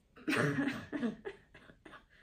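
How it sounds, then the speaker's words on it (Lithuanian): A person ill for five days coughs several times in a row up close, one harsh cough followed by a string of shorter, weaker ones. "pabandysim sulaikyti kosulį kiek įmanoma per šitą video"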